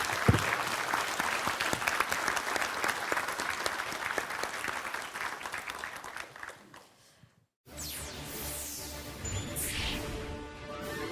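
An audience claps loudly at a Gyeonggi Province employment cooperation agreement signing ceremony, a dense, sustained round of applause that fades out, followed by a short gap and then other sound.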